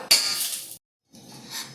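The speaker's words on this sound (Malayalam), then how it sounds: "നമുക്ക് നല്ലോണം ഇളക്കി കൊടുക്കണം, വറുത്തെടുക്കണം" A spoon scrapes and clinks against a pan in two short bursts of stirring while vermicelli roasts, separated by a brief silent pause.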